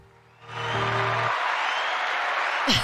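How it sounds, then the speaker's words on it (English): A crowd at a fishing expo breaks into sustained cheering and applause that swells quickly and holds steady at a distance, with no clear speech over it. "They didn't answer it, and they were all cheering out there."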